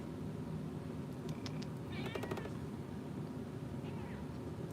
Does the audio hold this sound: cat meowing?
yes